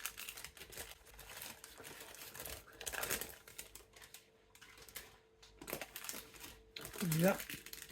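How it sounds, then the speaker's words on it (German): Baking paper is peeled off a thinly rolled dough, giving bursts of dry crinkling and rustling with quieter pauses between, and a voice talks over it at close range. "So, das Papier, wie gesagt, abgezogen."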